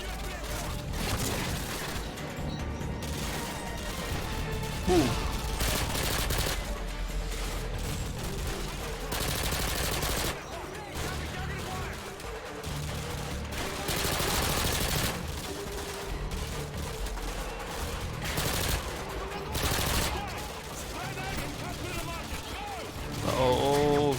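Rapid bursts of video game gunfire from Call of Duty Modern Warfare 2, sustained and dense over a mechanical clatter, with a loud mixed soundtrack throughout.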